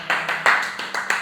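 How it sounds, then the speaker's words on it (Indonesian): Audience clapping in a talk-show style studio setting, short scattered bursts of hands coming in waves, fairly close and moderately loud with no talking over it. "Itu ada tepuk tangan, boleh tepuk tangannya kencang aja dong please di sini."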